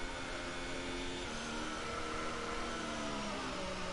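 A glitched racing car gearbox in F1 2019 drones steadily, a continuous buzzing whine with shifting pitch tones and no break, fairly faint and heard alone.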